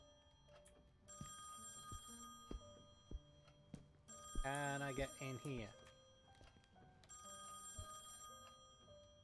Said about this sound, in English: Okay, so I have to answer the phone